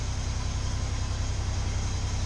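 Low rumbling truck traffic noise heard from outside a building under reconstruction, a steady engine drone with a pulsing low throb lasting about two seconds and no talk.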